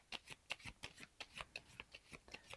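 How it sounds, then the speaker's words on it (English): Playing cards for the Distilled board game are shuffled in a quick, steady run of about a dozen crisp riffling bursts, close up and alone. "And shuffle up."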